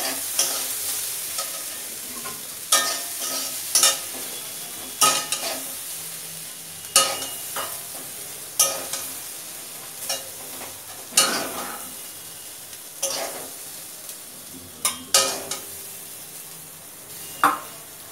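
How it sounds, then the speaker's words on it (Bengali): Potatoes and yardlong beans sizzle as they fry in a pan, stirred by a spatula that scrapes in regular strokes about every two seconds above a constant crackling hiss. "আলু ভাজাটা হচ্ছে, এটা হয়েও গেছে"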